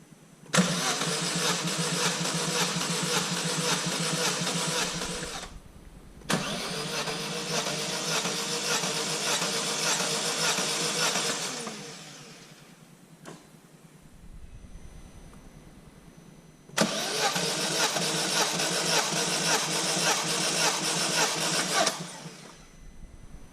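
A Vauxhall Corsa VXR engine cranking with its injectors unplugged for a compression test, three long bursts of the starter churning the engine over without firing, separated by pauses, loud and close.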